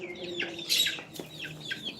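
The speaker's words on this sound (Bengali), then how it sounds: "দেখো আসছে মুরগিগুলো আমার" Domestic chickens clucking near a coop, a cluster of overlapping short calls with one louder burst in the middle, close by and steady over a soft outdoor background.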